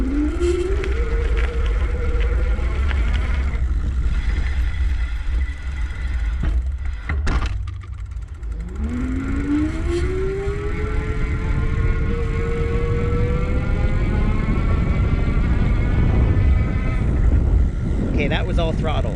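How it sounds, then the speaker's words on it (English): An electric bike motor on the highest pedal-assist level whines close up, rising in pitch as it speeds up, drops briefly, then climbs again in a long sustained whir. "just kick things off in the highest level of assist so you can really get a sense for how that motor might sound up close"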